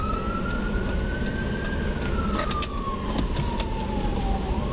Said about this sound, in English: Ambulance coming by.